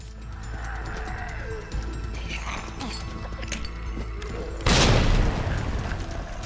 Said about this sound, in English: I wonder if the hand grenade actually took that one down.